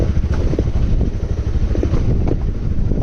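A motorcycle rides a hilly road near Purandhara in Dang, Nepal: a close, steady low engine rumble with wind buffeting the microphone throughout, and no talking.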